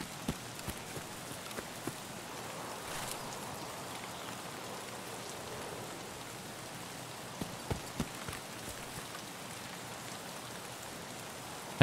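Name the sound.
rain in video game Escape from Tarkov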